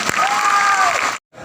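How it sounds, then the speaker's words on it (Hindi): Loud crowd applause welcoming a guest onto the stage at a World Indigenous Day gathering in Sukma, steady dense clapping with some cheering that cuts off abruptly, then resumes faintly. "आपके लिए जोरदार तालियों के साथ स्वागत"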